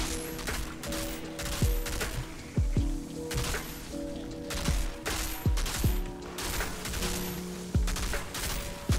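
Rapid gunfire from a Technomancer in an Outriders-style co-op shooter, blasting a bug creature during an Inferno Seed solo run: repeated loud bursts of shots with mechanical reload clicks and ratcheting, continuous and close, with no voices.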